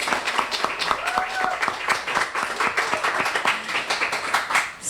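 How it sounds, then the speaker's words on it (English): Audience applause at a League of Women Voters panel event, a steady wash of many hands clapping at close to moderate distance, dense and sustained for several seconds, with a voice briefly audible over it. "So round of applause for all of you."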